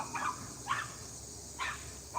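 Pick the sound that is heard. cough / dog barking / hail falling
dog barking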